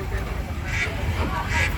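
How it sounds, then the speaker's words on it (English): A duck quacks at an attraction area at Universal Studios, a couple of short nasal calls rising over a busy background murmur of voices and crowd noise. "Unless a pesky duck decides to swim into frame."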